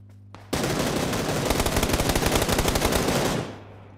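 Video game gunfire: a loud sustained burst of rapid automatic shots, rattling evenly for about three seconds before cutting off.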